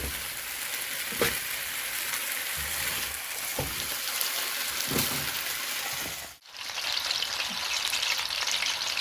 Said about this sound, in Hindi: इस तरह आलू पकाने नहीं है तो थोड़ा सा फ्राई करेंगे।